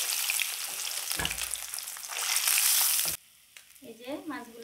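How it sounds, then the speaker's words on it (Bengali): Pangas fish fry in hot oil with a loud, steady sizzle that cuts off abruptly, followed by quieter kitchen clatter and a brief voice. "এই যে মাছগুলো সব ভেজে নিয়েছি।"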